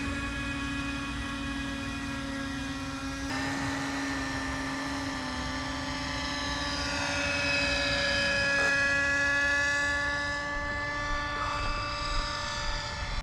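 A radio-controlled model airplane taxis across a freshly mowed grass field, its small engine giving a steady high-pitched buzz that rises and bends in pitch as the throttle changes, close and continuous without talk.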